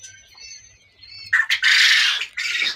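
Quail call close by: thin whistling chirps at first, then a burst of harsh, raspy squawking calls in quick succession.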